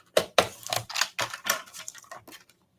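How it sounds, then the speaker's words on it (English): Card stock for a Christmas Hunkydory craft being trimmed from the bottom with a paper trimmer: a quick series of about nine crisp, close clicking and slicing strokes in an uneven rhythm, then silence. "So I'm just going to trim from the bottom."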